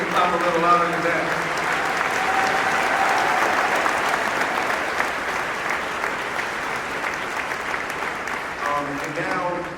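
An audience at an MLK Jr. prayer service in a church claps steadily and warmly for several seconds, a dense, even wash of applause with a voice speaking over it near the end.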